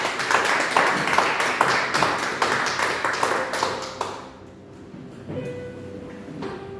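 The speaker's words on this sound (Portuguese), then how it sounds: "Tome seu assento, irmãos, aplaudindo ao Senhor Jesus." A church congregation claps in a dense burst of applause that fades after a few seconds into a quieter room tone with faint sounds.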